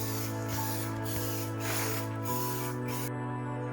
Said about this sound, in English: To apply it, holding it at a bit of a distance, I went back and forwards, trying to overlap it and not overspray